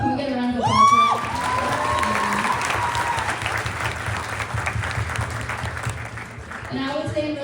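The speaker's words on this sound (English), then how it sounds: "Can we get a round of applause for that?" Audience at a school benefit fundraiser alumni panel bursts into loud applause with some cheering and whoops, sustained for several seconds, with brief talk at the start and end.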